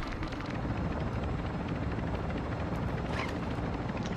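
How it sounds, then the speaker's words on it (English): A helicopter in an online shooter game whirs with a loud, steady rotor roar that stays dense and continuous throughout, with no talk. "Just looking at the chopper."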